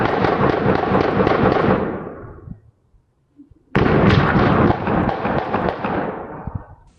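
Rapid bursts of gunfire from a dark-colored Kia Soul driving past, loud and dense for about two seconds, then a short silence before another long, sustained volley of close shots.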